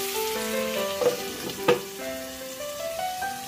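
Ridge gourd cooking in a pan with potatoes for a poppy seed curry, a soft continuous sizzle with a couple of brief louder spits, heard close with steady tones in the background.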